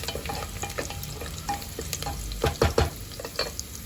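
Cashews and raisins sizzling in hot oil while being stirred, a steady fry hiss broken by scraping stir strokes, a cluster of louder pops and scrapes near the end, no voices.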